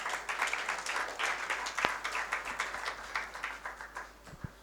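Audience applause at a sustainable design expo in Africa: a sustained, dense wash of many hands clapping, moderately loud and steady throughout, with no talking heard.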